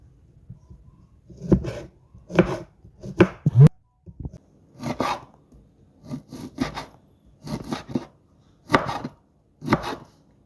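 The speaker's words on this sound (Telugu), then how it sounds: "పచ్చిమిర్చి కట్ చేసుకోవడం అయిపోయిందండి" Green chillies chopped with a knife on a board, heard as about a dozen crisp, close knife strokes in a fairly regular rhythm, some in quick pairs, against a quiet background with no voices.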